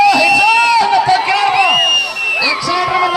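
Spectators at an Avulampalli bullock cart race cheer and whoop loudly and close by, with overlapping shouting voices rising and falling for a few seconds.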